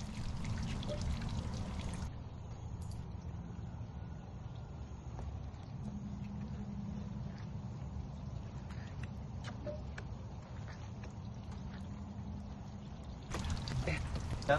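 Water sprays steadily onto freshly sawn cherry boards to wash off sawdust, a continuous hissing, trickling flow close by that drops to a softer stream for a long stretch before surging again near the end.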